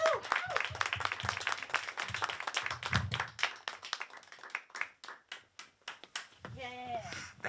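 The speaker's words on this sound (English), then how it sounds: "Thank you for those claps, guys." Audience clapping for a performer at a live comedy show, a burst of many hands that thins to scattered individual claps, with voices talking over the start and a brief whoop near the end.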